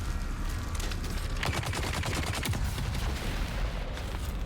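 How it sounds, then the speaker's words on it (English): Rockets fired from a heavy weapon during a Dune Awakening battle, a steady barrage of sharp gunfire-like bursts and booms packed densely together, loud and continuous with no talking. "it's so much fun to just fire rockets at people"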